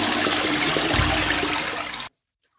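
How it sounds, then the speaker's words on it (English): A toilet flushes up close, a loud, steady rush of water lasting about two seconds before cutting off abruptly into silence. "It was the toilet flush."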